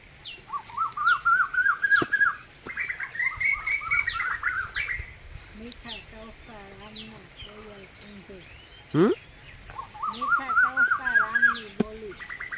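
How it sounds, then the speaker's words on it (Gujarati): An Asian koel calls in repeated rising phrases, moderately distant and fairly faint, with pauses between bursts and other small bird chirps scattered around. "કોયલ"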